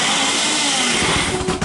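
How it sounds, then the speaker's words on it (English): A Ninja Foodi blender whirs loudly as it blends a prawn toast mixture, a dense continuous motor whine with a rougher churning texture toward the end, alone without talk. "What I want to do is blend."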